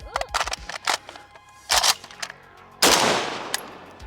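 A Zastava M77 AK-pattern rifle in .308 fires several sharp, loud shots close by, a quick cluster early on followed by two louder, spaced blasts with ringing decay, fired with softer-cycling ammunition outdoors.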